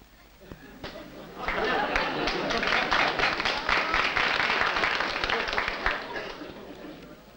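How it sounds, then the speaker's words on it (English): A large studio audience at a comedy quiz show breaks into sustained applause and clapping mixed with crowd chatter, building quickly and holding steady for several seconds. "I hear a lot of people applauding."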